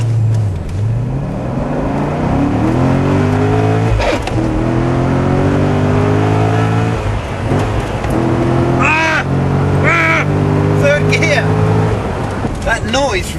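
A Porsche GT2 engine revs hard and climbs through the gears, with rising harmonic sweeps broken by brief dips at each shift, loud and close from inside the car while someone talks over it.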